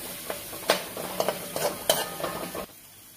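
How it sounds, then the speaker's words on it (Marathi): Finely chopped onion frying in a pan for shev bhaji, spatula scrapes and clinks in an irregular rhythm over a soft sizzle, close up, stopping abruptly near the end with no voices. "आता आपण यात बारीक चिरलेला कांदा टाकून घेऊया। कांदा थोडा भाजून घेऊया आपण"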